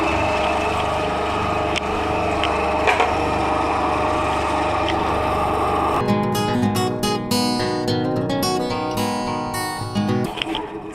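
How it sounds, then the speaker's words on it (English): A new bandsaw cutting a slot into a workpiece: a steady motor whine runs for several seconds, then the blade bites in with a loud, rough, buzzing rasp before easing off near the end. "This slot needs to be cut out of it, so thought I would do it on the new bandsaw"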